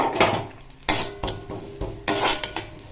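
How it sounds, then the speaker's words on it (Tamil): Sesame seeds being stirred and roasted in a pan while making pirandai chutney: sharp metallic scrapes and clinks of a utensil against the pan come in separate bursts with quiet gaps between them. "இந்த வானாலேயே இந்த எள்ளை போட்டு வறுத்துக்கலாம்."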